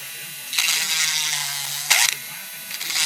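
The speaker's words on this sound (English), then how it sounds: "I gotta use the router" A high-pitched router whines in two bursts, rising and falling as it cuts plastic model-kit parts, with a low hum in between.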